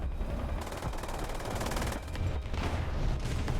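Rapid machine-gun fire and scattered gunshots from the War Thunder combat game, during a ground battle with a Su-25 attack jet, crackling steadily and densely throughout with no talk over it.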